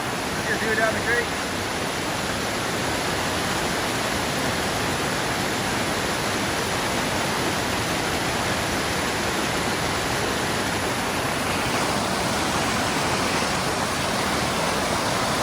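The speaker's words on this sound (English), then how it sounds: "Here's view down the creek." A creek flowing through green countryside gives a loud, steady rushing wash of water that fills the whole stretch without a break.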